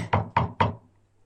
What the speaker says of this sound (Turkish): Annesi gelmiş. Kapıyı vurmuş.